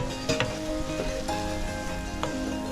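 Mushroom sauce thickened with tomato paste and plain flour sizzles loudly in a pan, a dense continuous hiss close up, with a few sharp scrapes and knocks as a spoon stirs it.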